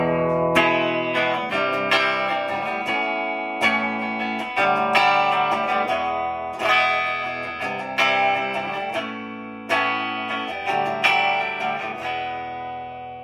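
An electric guitar with Woodcraft Bobcat lipstick pickups, switched to the bridge humbucker in parallel, plays clean, bright strummed chords in a steady repeating pattern, each chord ringing and decaying before the next.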